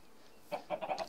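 Minecraft chickens clucking in the Technicality modpack, a quick run of four or five short clucks after a brief quiet start, fairly close, with no talk.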